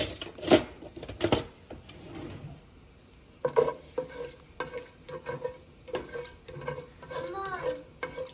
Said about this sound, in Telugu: దీనిలో కొంచెం తాలింపు దినుసులు వేస్తున్నాను